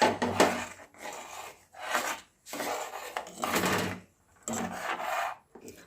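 100 g of date palm jaggery stirred into boiling milk over a low gas flame: about five close, rough scraping strokes in a steady back-and-forth rhythm, with short pauses and no talk.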